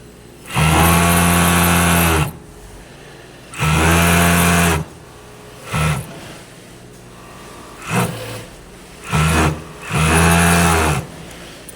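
Industrial five-thread sewing machine stitching the side seam of jeans, loud close motor bursts of a few seconds each, some long runs and some short jabs separated by brief pauses.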